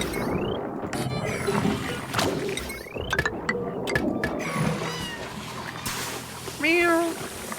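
A cartoonish cat meows among clicking, ratcheting machine sounds and sharp knocks in the Oxygen Not Included colony game, with a person talking over the busy game audio.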